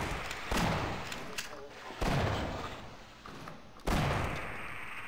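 Gunfire in the Half-Life video game: three sharp, loud shots spaced over a few seconds, each with a broad blast and a decaying tail, with game ambience between them.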